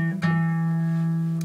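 A guitar strummed once on a fretted chord, the strings ringing out steadily and sustaining close-up with no talk.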